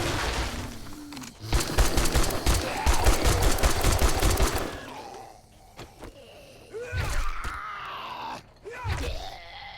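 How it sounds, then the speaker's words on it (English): Rapid automatic gunfire in the survival game 7 Days to Die, a dense loud burst lasting a few seconds, followed by scattered single shots, thuds and zombie-like groans. "Am I shooting a dead body? I think I'm shooting a dead body."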